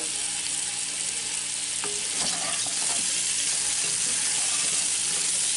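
Garlic cloves sizzle in oil in a Dutch oven, a dense steady frying hiss with a few scattered clicks and stirring scrapes, no talk.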